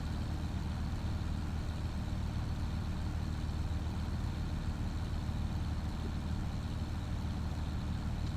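A farm tractor under 100 horsepower labors on hilly fields, its engine giving a steady low droning rumble that holds constant at moderate distance, with no talk over it.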